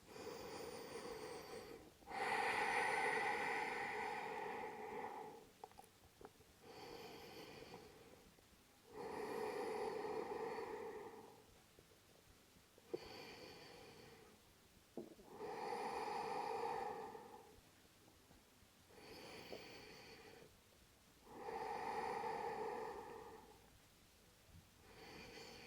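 Slow, deep exhalations during a yoga forward fold in a vigorous vinyasa flow, four or five long audible breaths with quiet gaps between, close and fairly soft, no talking.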